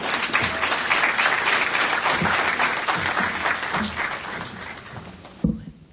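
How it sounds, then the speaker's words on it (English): A seated audience applauds Mrs. Laurent with steady, dense clapping that holds for several seconds, then cuts off abruptly near the end. "Please, a round of applause for Mrs."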